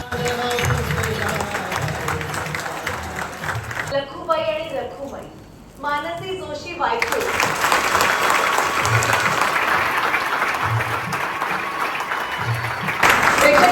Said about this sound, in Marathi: नाटक संपताच लोकांनी जागेवर उठून टाळ्यांचा कडकडाट केला